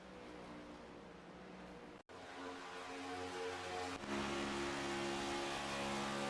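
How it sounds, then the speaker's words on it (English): The engine of a Ford stock car in an iRacing Daytona 500 sim race holds a steady drone from an onboard view, cuts out briefly, then returns and grows louder. "Here's a look from one of the red line logoed machines. This is a Ford. Listen in, Brent."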